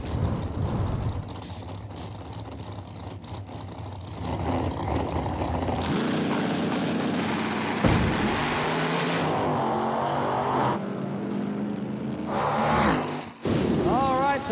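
Drag race cars, including a Pro Charge Trans Am, roar loudly down the strip with harsh, rising engine noise and shifting tones, a brief pause near the end, then a burst of sound; a commentator talks over part of it.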